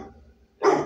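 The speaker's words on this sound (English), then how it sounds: "What are you barking at?" A single sharp dog bark, close and loud, following a moment of quiet.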